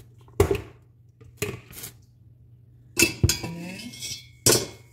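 Sharp metallic clanks and clinks from a pot and utensils as meat goes into a pressure cooker, five or so separate knocks with quiet gaps between them.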